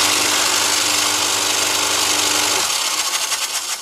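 A freshly assembled belt sander runs with a steady, loud mechanical drone and whine that shifts and roughens near the end, no talking.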